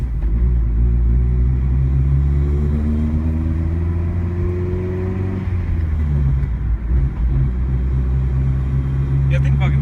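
Big-turbo Hyundai Genesis Coupe 2.0 R-Spec engine droning steadily from inside the car while driving, a loud continuous low rumble that eases slightly midway, with voices talking over it.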